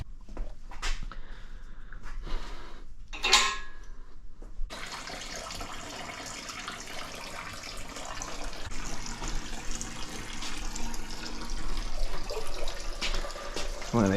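Oil draining from an RB30DET engine during a rebuild, a steady liquid trickle and splash that runs continuously for about ten seconds after some brief handling noises at the start.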